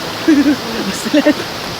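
Rushing water at the Cotmon waterfalls pours in a constant, broad roar, with a person's brief voice rising over it.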